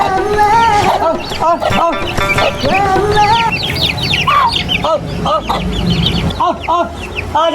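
Chickens and a rooster cluck and squawk loudly and close by, in busy overlapping calls, mixed with a person's voice.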